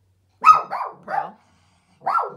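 A dog barks four times up close, three quick barks in a row, a brief pause, then one more, loud and alone with no talk.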